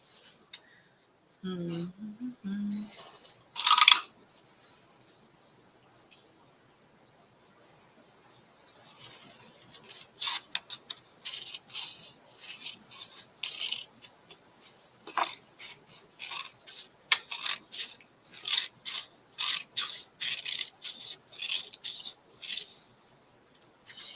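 Scissors snip and trim a temporary tattoo sheet in a run of close, crisp cuts, quiet and rhythmic, after a brief rustle near the start.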